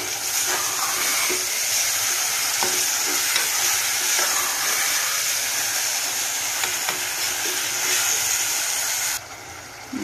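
Mutton cooking in masala curry gives off a loud, steady sizzle and hiss from the pan with faint stirring scrapes, continuous and close, then cuts off abruptly near the end.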